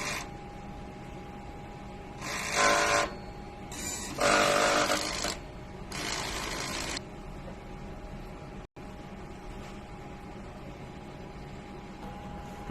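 An eco-solvent printer runs a print head cleaning cycle, with three separate bursts of mechanical whirring about a second each over a steady low machine hum.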